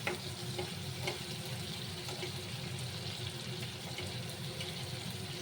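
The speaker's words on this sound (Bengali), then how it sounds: "এটা নুন হলুদ মেখে এই দেখো লাল লাল করে একটু ফ্রাই করে নিয়ে এটাকে এখন তুলে নেব" Large prawns coated in salt and turmeric fry with a soft, steady sizzle and a few faint utensil taps. The sound is fairly quiet, with no talking.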